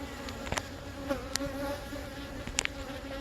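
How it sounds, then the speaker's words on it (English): Honeybees buzz at a hive, a faint, steady hum broken by a few quick sharp buzzes of individual bees passing close. "The bees that are supposed to go in the hive will go in the hive."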